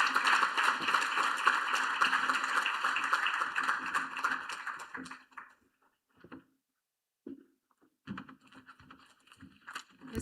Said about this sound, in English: Let's give the PS another round of applause